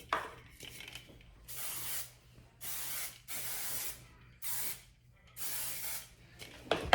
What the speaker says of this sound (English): Let me shake my hairspray.